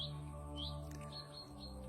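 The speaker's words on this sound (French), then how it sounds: "Nous sommes toujours chez les petits oiseaux. Je ne sais pas si vous les entendez." Small birds chirping in short, faint high tweets scattered across two seconds over a low steady background hum, no talk.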